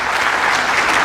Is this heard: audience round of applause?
yes